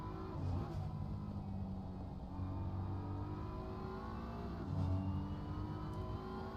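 A GT race car engine in Assetto Corsa Competizione drones and revs steadily during an endurance race at Spa, rising and falling in pitch, moderately quiet with no talking.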